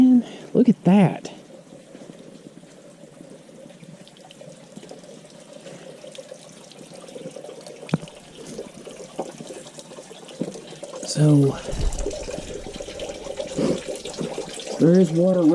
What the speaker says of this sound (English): there is water running from up there